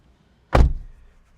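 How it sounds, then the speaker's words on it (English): The driver's door of a 2019 Toyota Corolla Hatchback swinging open, heard as a single short, solid clunk up close that fades quickly into quiet. "the door opens nice and wide"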